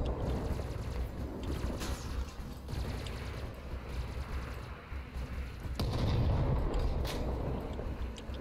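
Mech-mounted guns fire in the vehicle combat game Crossout, with a dense stream of repeated booming shots and mechanical clanking over a steady engine-like rumble, fairly loud and continuous, with no talk.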